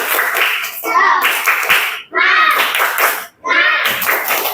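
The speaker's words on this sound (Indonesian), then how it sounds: "Tepuk semangat." Schoolchildren do the 'tepuk semangat' clapping chant, sharp rhythmic claps in quick groups alternating with loud chanted voices, close and energetic, in three short bursts separated by brief pauses.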